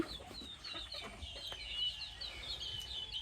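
A large rooster clucks in a poultry yard, a faint run of repeated bird calls over low background noise.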